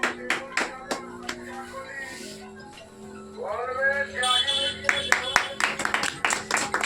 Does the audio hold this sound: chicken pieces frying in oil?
no